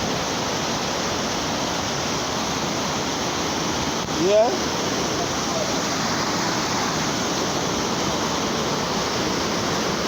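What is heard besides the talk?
floodwater rushing after a hurricane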